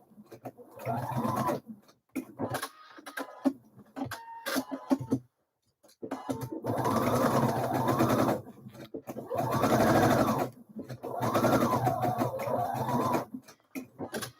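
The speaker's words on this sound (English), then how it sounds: "I'm going to stitch it first, and then I will go over it again if I have done it right" A sewing machine stitches a seam on a Frida blouse in several runs of steady, whirring motor noise, stopping and starting between bursts, with short pauses and light handling sounds nearby.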